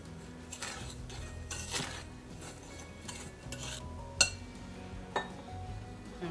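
Flour, sugar, baking powder and salt stirred together in a bowl for peach cobbler, heard as faint repeated scraping and soft clinks of a utensil against the bowl, with no talking.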